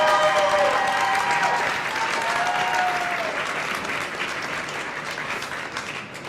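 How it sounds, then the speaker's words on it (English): A crowd at a World Brewers Cup coffee competition claps steadily for the Italian competitor, dense applause fading slightly toward the end as a voice briefly rises over it. "A big round Thank of applause for Italy!"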